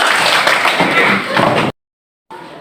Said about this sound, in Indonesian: beri tepuk tangan untuk semua